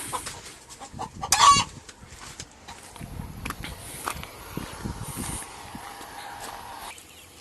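A disturbed hen about to lay clucks in agitation inside a coop holding around a hundred chickens, with louder squawks early on and steady fowl chatter continuing throughout at close range.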